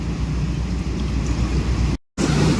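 Heavy rain pours steadily at Laem Chabang port with strong wind, a dense close hiss of falling water with no voices, cutting out for a split second near the end.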